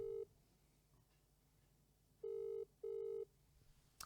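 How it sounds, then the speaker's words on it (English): A telephone line sounds on an outgoing call, giving three steady electronic tones of about a quarter to half second each, one at the start and two close together later, fairly loud with quiet gaps between. "I can't believe it's still ringing."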